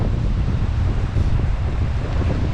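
Wind roars steadily and loudly across the microphone after Hurricane Ian in flooded Naples, Florida, a dense rumbling gust with no break.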